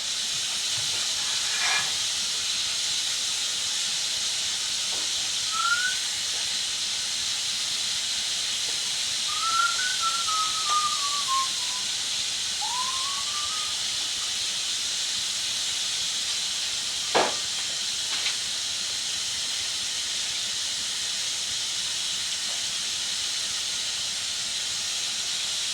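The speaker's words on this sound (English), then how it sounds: "Now we have to rinse your hair for 2 minutes." Running water rinses hair set on perm rods, a steady broad hiss of spray that continues for the whole stretch, with a few faint squeaks and knocks over it and no talk.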